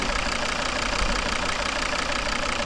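A 2011 Volvo V50's 2.0-litre five-cylinder D3 diesel engine idles steadily with a constant low rumble and faint knocking, loud and continuous with no voices.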